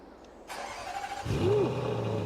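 A Krone BiG M 500 self-propelled mower in Farming Simulator 22 fires up with a sudden burst, then settles into a loud, deep, throaty engine drone with a brief rising whine, running steadily with no talk.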